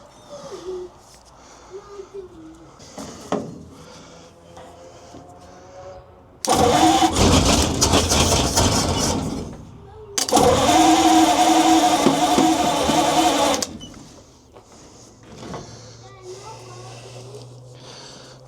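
An abandoned 1942 Ford CMP truck engine cranks and fires in two loud bursts of rough running, separated by a short gap, with people talking before and after.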